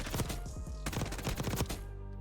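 Johnson gun in Black Ops 6 firing on a range, two quick rapid-fire bursts of sharp, close, loud shots separated by a short gap, with no talking.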